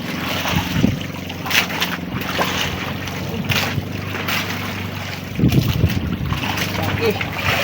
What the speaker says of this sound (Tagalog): Nagsimula na naman ang hangin.